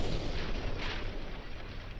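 Warship guns fire in a naval battle game, a dense rumbling roar of distant artillery booms blending into a continuous heavy wash throughout.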